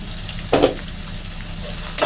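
Whole spices, onion and chili fry in oil in a wok with a steady sizzle, broken by a brief louder burst of stirring early on; no one speaks.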